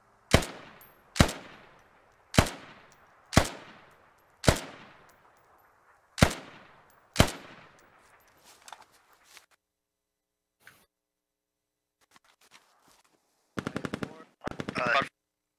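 Gunfire in the military shooter game Squad: seven loud, evenly spaced shots ring out with echoing tails, then fainter scattered pops, and a rapid burst of automatic fire closes the sequence.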